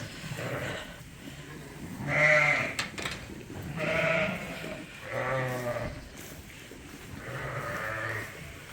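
Several sheep bleat in a barn during lambing season, loud wavering calls repeating roughly every second or two, close and overlapping.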